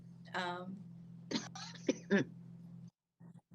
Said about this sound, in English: Did he just cough?